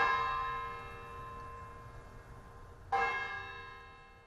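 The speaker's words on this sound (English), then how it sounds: "Westminster College's Church of St. Mary's rang its bells at 7 p.m." Church bells ring at Westminster College's Church of St. Mary's, a sustained resonant toll fading slowly before a second loud strike near the end, heard alone with no talk.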